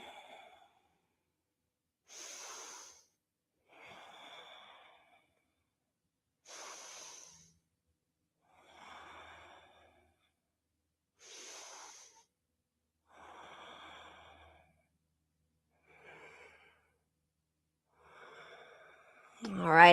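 Slow, steady breathing repeats in even cycles during a yoga pose, with soft hissing inhales and exhales spaced a few seconds apart. The breaths are close but faint, and a louder sound cuts in at the very end.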